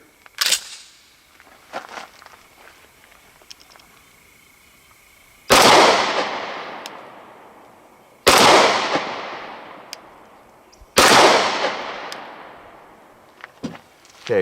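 Three loud, sharp pistol shots from a Walther PPQ in 9mm ring out at steady intervals, each with a long decaying echo, following a few quieter clicks and handling taps.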